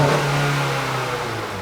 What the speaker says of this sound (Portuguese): Pisa até o fundo do acelerador, tira o pé